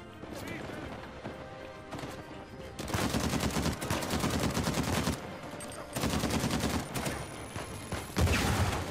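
Rapid Gatling gun fire in the video game Uncharted 4, long dense bursts of rattling shots that pause briefly and resume, loud and close in a chaotic battle mix.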